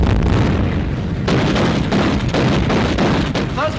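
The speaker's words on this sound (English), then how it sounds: "Open fire! Shoot!" Naval guns on a World War II warship open fire in a 1942 war film, a dense continuous barrage of booms and blasts with sharp bursts layered over loud rumbling battle noise, no pauses throughout.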